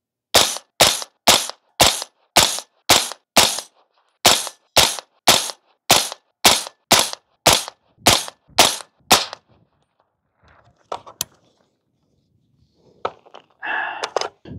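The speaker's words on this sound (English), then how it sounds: "so we will continue shooting that area, see if there's any shift whatsoever" A rifle fired at a target with cheap Armscor ammunition lets off about sixteen sharp, loud, close cracks at a steady pace before stopping, followed by faint clicks, handling and muffled rustling.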